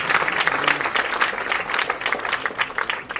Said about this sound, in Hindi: इसके लिए सुमित के लिए बहुत बड़ी तालियां।